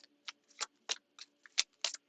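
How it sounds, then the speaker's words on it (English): A deck of reading cards is shuffled by hand in several quick riffling bursts, each a short papery flutter, close and clear with no talking. "And this one I can actually shuffle because there's a lot"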